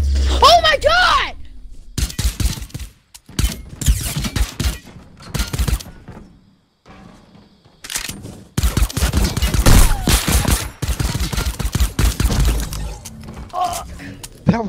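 Sniper rifle shots in a video game sniper battle, sharp bursts of gunfire scattered across the clip amid loud in-game action, with people talking excitedly over it.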